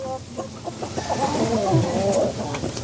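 A Rhode Island chicken clucks in a short run of soft, close calls that rise into a throaty burble, with faint background noise.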